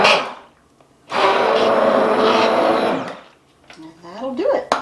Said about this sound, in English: I'm just going to puree enough of it to make it a super thick and hearty soup